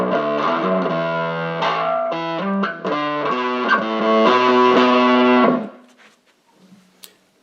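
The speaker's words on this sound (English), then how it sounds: "Next one up is the OD1, which is essentially Boss's original overdrive distortion pedal." Bass guitar played through the OD1 overdrive distortion of a Boss ME-70 multi-effects unit, a gritty sustained riff of several held and changing notes, loud and close, then cut off, leaving a brief faint tail.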